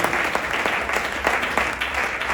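Congregation applauding at a church worship night in Johannesburg, a continuous even roar of many hands clapping with a few sharper claps standing out.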